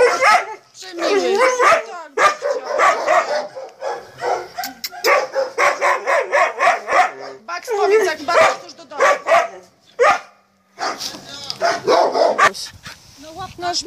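Dogs at an animal shelter in Gryfino barking and yipping loudly at close range in repeated bursts, with people talking over them throughout.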